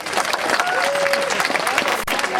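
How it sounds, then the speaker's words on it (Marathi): An audience at a World Disability Day celebration for disabled and intellectually disabled children claps loudly and steadily, with voices carrying over the applause. "त्यासाठी जोरदार टाळ्या"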